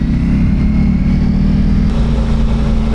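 A motorcycle exhaust rumbles loud and close on Seven Lakes Drive, New York, a steady deep throaty drone with no talking.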